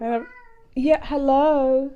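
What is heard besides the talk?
cat meowing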